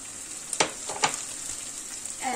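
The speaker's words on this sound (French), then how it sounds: "Maintenant que nos oignons sont bien dorés, on va rajouter l'ail." Garlic tipped into a pan of golden-browned onions keeps up a steady, close sizzle, broken by a few sharp scraping stirs and a brief splatter burst near the end.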